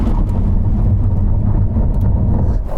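A Lamborghini Aventador SV brakes hard from 60 mph, a loud, close low rumble of road and engine noise that stays heavy and even for a few seconds before easing slightly.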